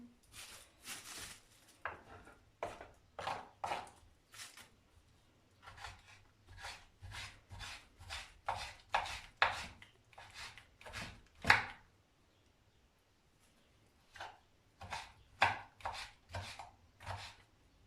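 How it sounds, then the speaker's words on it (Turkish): A knife chops eggplant into cubes steadily on a cutting board, quick rhythmic strokes in bursts with brief pauses, close and clear with no talking. "Şimdi bunu doğrayalım."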